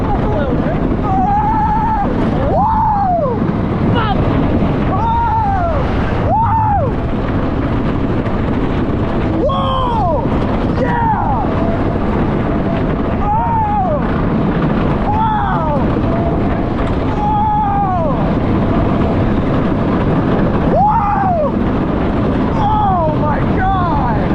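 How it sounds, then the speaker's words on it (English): Wooden GCI roller coaster ride at Toverland theme park, with constant loud rushing wind and rumbling track noise throughout, overlaid by repeated excited whooping and shouting from riders. "That's one of the best GCIs I've ever ridden."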